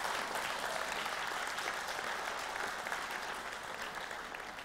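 A church congregation breaks into steady, sustained applause for the Lord during a French-language service. The clapping is full and even from start to end, with faint crowd murmur beneath it.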